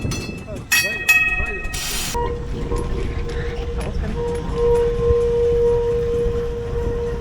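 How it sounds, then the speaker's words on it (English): A vintage 1912 tram pulls away with rumbling, squealing wheels, a hiss of air and a bell near the start, then a sustained whine as it moves off, with people talking over it. "the first trams arrived in 1908, and this one was 1912, and it's just leaving now."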